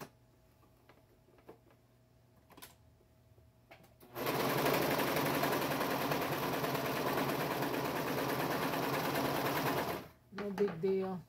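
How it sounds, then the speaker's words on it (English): A serger sewing machine stitches clothes in a fast, loud, even mechanical burst lasting about six seconds. A person talks quietly before the stitching starts and again once it stops. "you see how I did the serger here"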